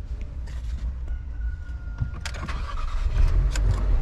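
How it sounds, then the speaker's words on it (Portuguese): A brand-new Jeep starting up, with faint clicks and a brief whir before the engine catches and settles into a low, steady rumble that grows louder toward the end, heard from inside the car. "Liga ele aí, Bruno."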